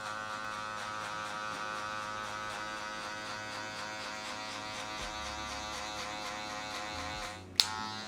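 Electric hair clippers cutting a fade with a 1.5 guard, a steady close mechanical buzz running throughout, with a short sharp click near the end.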